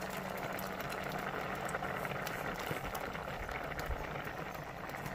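Carrot halwa mixture bubbling in a pan on the stove, a steady close simmering hiss and gentle popping that holds unbroken throughout with no voices.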